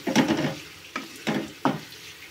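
Sliced onions fry in a pan over a medium flame and are stirred a few separate times, each stir setting off a close, short burst of sizzling and scraping.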